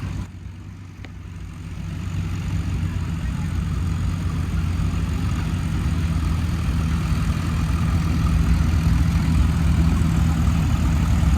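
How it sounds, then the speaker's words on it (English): A tractor engine at a tractor pull during a harvest reunion show runs as a steady, loud, low-pitched roar, holding a continuous drone that swells slightly after the first two seconds with no voices. "So we'll start with a little tractor pull."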